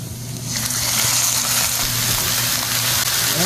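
Chicken pieces stirred into sautéed garlic and onion for a creamy chicken adobo, giving a steady loud sizzle and frying hiss with soft scraping of the mix throughout.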